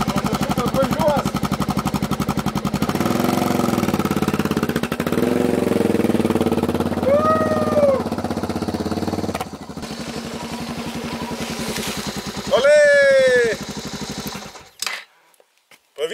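A Suzuki motorcycle engine runs after a clutch repair, a loud steady idle with revving swells, close by, while a voice speaks over it at times.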